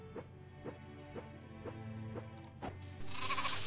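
Sheep bleat in the farming video game My Time at Portia: about five short, quavering bleats in an even rhythm, fairly close and clear, followed by a burst of brighter game noise at the end.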